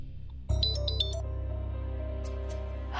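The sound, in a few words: phone ringing on speaker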